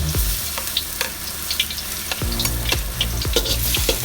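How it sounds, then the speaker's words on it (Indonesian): Garlic fries in hot oil in a pan, sizzling steadily and loudly while a utensil scrapes and stirs in repeated short strokes. "kita tambahkan sedikit minyak untuk menggoreng bahan-bahan selanjutnya. Dimulai dari bawang putih akan kita goreng dulu."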